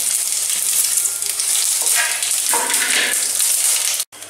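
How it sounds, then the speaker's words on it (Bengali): Cumin seeds, dried red chillies and a bay leaf hit hot mustard oil left over from frying koi fish, giving a steady, close, crackling sizzle that runs unbroken for several seconds before cutting out abruptly. "মাছ ভাজার সেই গরম তেলে আমি ফোড়নের জন্য রাখা জিরে, শুকনো লঙ্কা, তেজপাতাটা দিয়ে দিলাম।"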